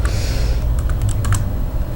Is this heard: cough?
no